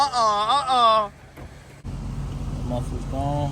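Corvette with an LS V8 and its mufflers deleted, a deep, steady exhaust rumble at close range that comes in after a brief stretch of talking and holds loud to the end.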